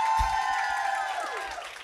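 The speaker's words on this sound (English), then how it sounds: "Give Deandre another round of applause" Audience at a fireside chat cheering and clapping, with a whooping crowd swell that fades gradually over a couple of seconds.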